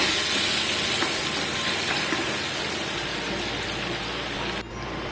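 Paneer is sautéed in a pan with Kashmiri red chilli and salt, making a loud, dense, continuous sizzle and hiss with faint scraping, with no one talking.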